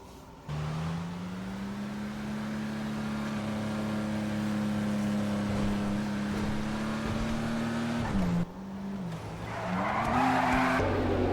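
A Vulcar Nebula Turbo car driving in GTA 5, its engine holding a steady drone that dips as it slows then rises again, ending with tire squeal, near and loud.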